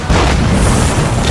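Tank shells exploding as a sound effect, a loud, dense, continuous roar of blasts filling the whole moment with no clear gaps, heard alone without voices.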